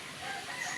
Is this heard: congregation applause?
no